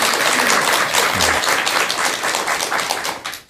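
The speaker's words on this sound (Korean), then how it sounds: "우리 회원선님께 뜨거운 박수 한번 부탁드리겠습니다." Studio audience at a Buddhist television broadcast breaks into steady, dense applause, loud and close throughout, trailing off at the very end with no talking over it.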